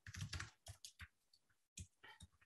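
Close computer keyboard typing arrives in quick clustered bursts of key clicks, with a short silent gap before another flurry of keystrokes.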